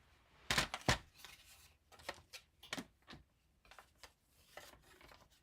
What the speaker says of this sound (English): I'm just going to come in with my trimmer again